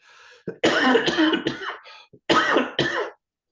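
Several harsh coughs in quick succession with short gaps between them, close and fairly loud, ending in silence.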